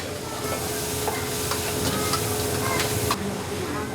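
Steady sizzling and scraping of food being stir-fried in a hot pan, with clinking utensil taps throughout and faint voices in the background.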